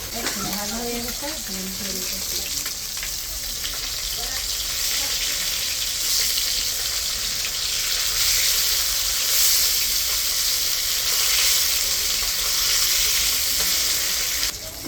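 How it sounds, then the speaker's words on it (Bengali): Large fish frying in hot oil until reddish, after tilapia was fried, giving a steady, dense sizzle with crackling spatter that runs the whole time, close and fairly loud, with a brief voice at the start. "একটু একটু ভালো করে ভেজে নিচ্ছে, লাল লাল করে।"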